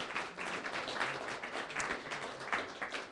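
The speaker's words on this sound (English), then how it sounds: "Could you please give them all a huge round of applause for all the work that they do?" Audience applause for event staff at a public-radio community engagement event on public land: a moderate, uneven patter of clapping from a modest crowd, fairly distant and brief.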